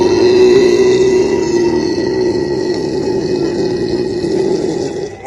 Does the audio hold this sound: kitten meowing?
no